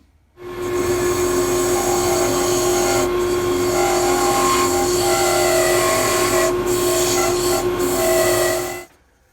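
A pen blank is turned down on a lathe to a 5/16 diameter, a loud continuous machine hum with a steady tonal whine and rough cutting noise that starts abruptly and stops after several seconds.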